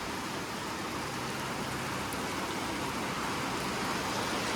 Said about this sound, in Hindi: ये देखो अब जाके थोड़ी थोड़ी बारिश होने लग गई है